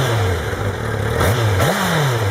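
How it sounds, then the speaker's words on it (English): An Aprilia Tuono V4 1100 motorcycle with its V4 engine and aftermarket exhaust idles loudly up close, then blips the throttle in two quick revs that rise and fall. "you can hear that V4 engine on it, and it sounds amazing"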